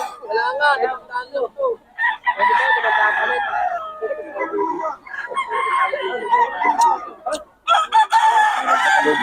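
Several roosters crow repeatedly, loud and close, their calls overlapping with clucking in between.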